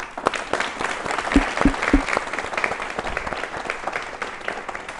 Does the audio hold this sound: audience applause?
yes